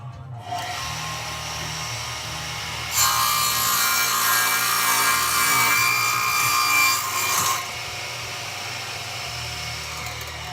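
Handsaw cutting through a wood floor board, a steady rasping stroke that grows louder and brighter for several seconds mid-cut before settling back to a softer scrape, close and alone.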